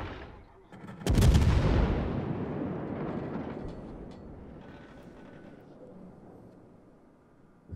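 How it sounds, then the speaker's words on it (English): Naval artillery fire from warships in World of Warships, played from a US cruiser, a sudden heavy boom about a second in that rolls into a long, slowly fading rumble, fairly loud and without speech. "somebody is firing from right there"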